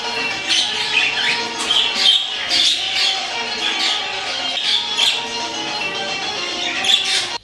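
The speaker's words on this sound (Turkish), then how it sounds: "Gökkuşağı ispinozu denen rengarenk kuşlar adeta görsel şölen sunuyor" Gouldian finches in an aviary give short, high, repeated chirps and squeaks in irregular bursts over a faint rustling background, with a voice speaking quietly underneath.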